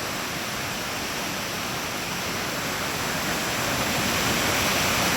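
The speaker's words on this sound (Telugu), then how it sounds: "ఇంత వైల্డ్గా కొత్తపల్లి వాటర్ ఫాల్స్ ఉందండి చూడండి" Kothapalli waterfall, swollen by heavy rains, roaring in a dense, unbroken rush of water that stays loud and steady throughout.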